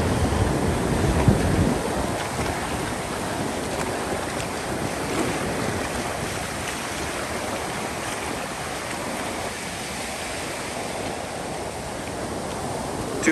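Small, hake-sized ocean waves break and wash steadily onto a beach, a continuous roaring hiss of surf mixed with gusty wind buffeting the microphone, with no voices.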